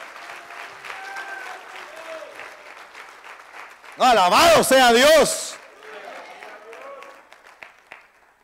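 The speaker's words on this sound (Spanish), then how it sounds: "denle un aplauso fuerte al Rey de la Gloria" A church congregation erupts in a loud burst of applause and cheering that lasts about a second and a half, set between stretches of a man preaching in Spanish.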